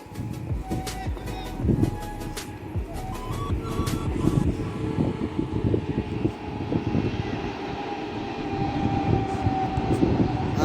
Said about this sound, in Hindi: देखिए ट्रेन भी आवती है।